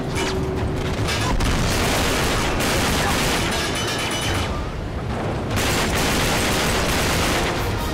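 A loud, dense stretch of video game combat in Uncharted 3: continuous gunfire and booming blasts, including a grenade explosion, fill the whole span with rapid shots and heavy rumbling.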